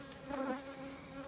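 Honey bees buzz steadily around mini-plus nuc hives during early winter preparation, a soft, continuous drone with a brief swell in the middle and no talking.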